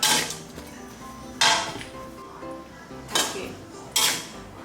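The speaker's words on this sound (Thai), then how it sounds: "เดี๋ยวเรามาตักใส่จานกันนะคะ" Clinks and scrapes of a utensil against a pan and plate as sautéed shrimp and champignon mushrooms in sauce are scooped out, four distinct bursts of clatter, close and fairly loud, with no talking.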